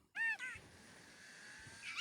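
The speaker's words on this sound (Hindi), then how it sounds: "बीच रोड में बिल्ली क्या कर रही है भाई साहब?" A cat standing in the middle of a road in a life simulator video game lets out a short, clear meow, followed by a faint drawn-out mew over a quiet hum.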